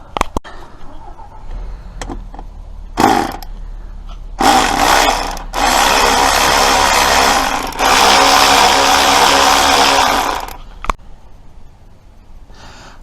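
Bursts of a power tool working an 8mm bolt on a Rover 75 diesel engine: a short whir, then two longer loud buzzing runs separated by brief pauses, close up with quiet gaps between.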